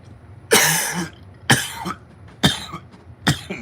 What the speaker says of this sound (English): pardon me while I cough up a lung here